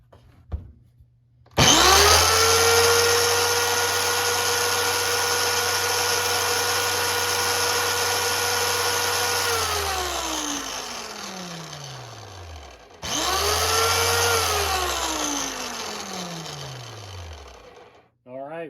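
McCulloch Electramac EM250 electric chainsaw running with a dry bar and chain, a loud close motor whine spinning up, running steadily, winding down, then a second shorter run.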